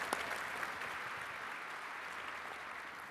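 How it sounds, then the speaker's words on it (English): Faint, distant audience applause at a talk on financial surveillance, a soft steady patter of many hands clapping heard from afar with no voices over it. "Round of applause."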